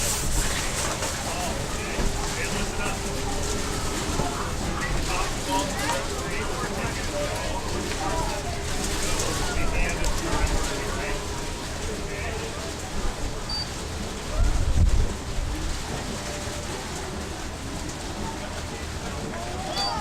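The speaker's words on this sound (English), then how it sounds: "A little breezy and a little rainy here today." Steady wind and rain wash over an outdoor high school football game, a broad constant hiss and rumble throughout with a few louder gusts.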